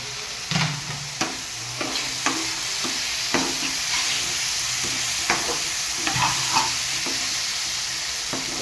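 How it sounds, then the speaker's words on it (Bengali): Chopped ginger and Kashmiri chilli are stir-fried in a pan, with a steady sizzle beneath repeated scraping strokes of a spatula, close and fairly loud. "এবার আদা কুচিটা দিয়ে দেবো"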